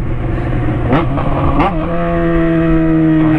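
A Jaguar XJ convertible revs hard and downshifts, its loud engine note dropping and climbing with sharp exhaust pops and crackles, close up and steady throughout.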